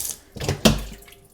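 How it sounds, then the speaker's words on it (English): Tap water runs into a sink during flour washing for seitan, heard as short splashy rushes of moderate loudness with no talking. "The water's running."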